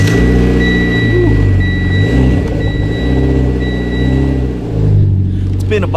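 Mitsubishi Evo car engine during a cold start, a close, steady rumble with revs repeatedly rising and falling, a voice sometimes heard over it.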